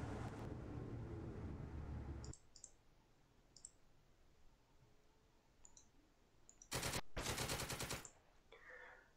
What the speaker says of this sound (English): Greet them with machine gun fire.